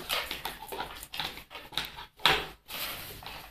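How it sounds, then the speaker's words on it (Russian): A small dog barks indoors in a series of sharp, fairly close yaps with short gaps between them, and no voices over it. "Ай, собачка загавкала! Охраняет?"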